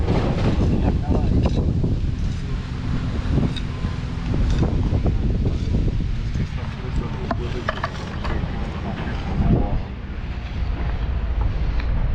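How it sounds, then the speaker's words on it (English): Wind gusting outdoors across a job site where a concrete patio for a hot tub is being stamped, a loud continuous rumble buffeting the microphone, with scattered rustles and knocks and people talking over it. "Ah, the wind."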